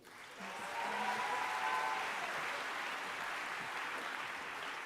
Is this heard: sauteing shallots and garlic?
no